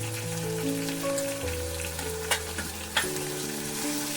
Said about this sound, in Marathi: सगळी फोडणी चांगली परतून घ्यायची, खरपूस भाजून घ्यायची.